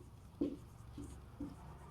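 A pen scratches across paper in a handful of short, separate strokes during a statistics lesson, soft and close with quiet gaps between the marks.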